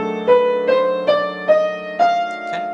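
F half-whole diminished scale played note by note on a keyboard, about six evenly spaced struck tones stepping upward over a sustained low chord, clear and close with no talking.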